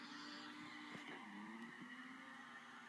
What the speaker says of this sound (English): just kind of get used to trying to drift this car